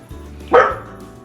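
A single short, loud dog bark indoors at home, one sharp burst standing out against a quiet room.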